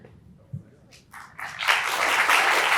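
Audience applause for Nobel chemistry laureate David MacMillan at a Taiwan awards week opening ceremony; after a brief quiet stretch with a few isolated claps, clapping swells to a full, steady round.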